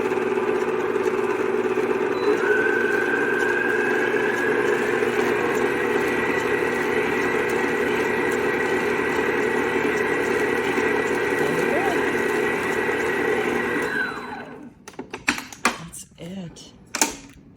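An electric hand mixer whirs steadily and close while beating Bailey's and coffee cupcake batter, then cuts off near the end, followed by a few clatters and brief voice sounds.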